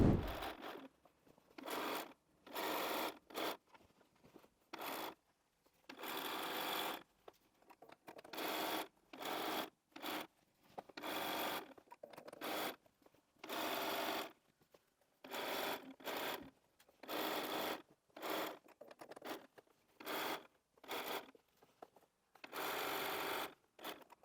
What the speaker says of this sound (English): Now we can take this to the machine and sew.